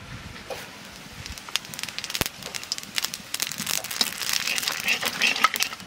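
Radhuni and cumin seeds dropped into hot oil left from frying rohu fish, crackling and popping in quick irregular bursts that build in intensity, close by.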